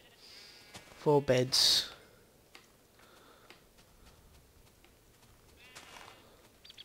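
Sheep in the Minecraft modpack Tekkit Classic give a short burst of bleats, two or three quick game-sound calls in a row, amid light background noise while a person talks quietly.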